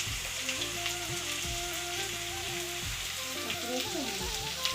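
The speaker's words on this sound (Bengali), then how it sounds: "তো এবারে খানিকক্ষণ ভাজবো" Salted food fries in a pan in a home kitchen, a steady sizzle that runs the whole way through alongside a faint melodic background, with no talking.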